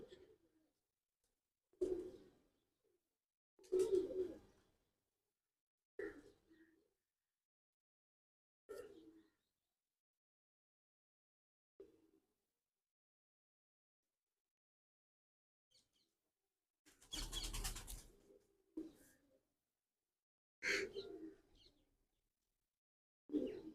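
Low, soft cooing from pigeons in short separate bursts with long quiet gaps, a few louder calls near the end.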